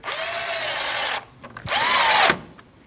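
Power drill driving 7mm bolts into the radiator fan assembly on a 2013-2019 Ford Escape: two loud, close whirring bursts, each about a second long, rising and falling in pitch with a short pause between.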